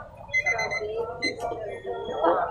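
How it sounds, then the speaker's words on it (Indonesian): A small kitchen alarm clock rings with a bright, repeating electronic beep pattern, heard under people chatting nearby in a home cooking setting. "Apa itu? Alarm?"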